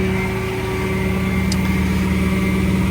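Engine of an Elliott L65 boom truck running at high idle, a loud steady drone with a constant hum that holds unchanged throughout, no talking.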